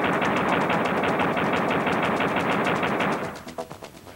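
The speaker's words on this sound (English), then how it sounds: "we select one of the codes, then return to the game and fire some bullets" Rapid gunfire from Duke's pistol in the N64 Duke Nukem game, a fast, loud, steady burst of repeated shots that runs for about three seconds before breaking into a few scattered final shots, with no talking.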